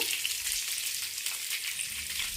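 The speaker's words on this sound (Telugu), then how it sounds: "తాలింపు వేసుకుందాం." Spices hit hot oil for a tempering in a pan for horse gram rasam, giving a dense, bright, steady sizzle that fills the short stretch close up with no talk.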